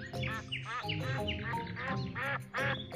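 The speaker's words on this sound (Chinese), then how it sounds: "这种鸭子通体雪白" Large, pure-white Pekin ducks, the Beijing breed used for roast duck, give a loud, close run of overlapping nasal quacks in quick, uneven bursts with no pauses.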